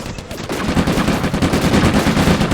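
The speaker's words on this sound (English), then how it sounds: "we do have some light machine guns with our infantry squads" Light machine gun fire in the Combat Mission: Afrika Korps wargame, heard as continuous loud rapid bursts of automatic gunfire that layer into a dense, unbroken rattle.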